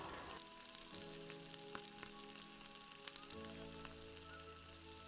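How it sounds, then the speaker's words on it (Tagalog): Garlic and onion are sautéed in a pan for stuffed squid, giving a continuous loud, close sizzle with faint crackles and a few light stirring taps, with no talk. "Next, isute natin ang ating sibuyas."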